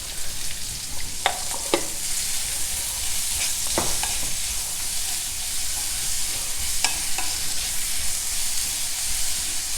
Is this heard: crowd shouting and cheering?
no